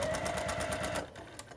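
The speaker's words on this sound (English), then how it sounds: "So I'm going to sew these pieces together here to make the top and the bottom of the cross first." A sewing machine stitching fabric pieces together for a zipper first aid pouch, running in a steady fast rhythmic whir for about a second, then stopping, leaving quiet handling noises.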